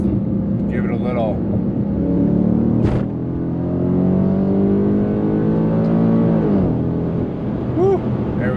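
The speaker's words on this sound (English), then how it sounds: "Give it a downshift here, coming out of this turn on this exit ramp, and just give it a little." An Infiniti M56 fitted with PPE headers and exhaust downshifts coming out of an exit-ramp turn, then pulls hard. The engine note climbs steadily through the gears, loud and close, with a brief blip partway through.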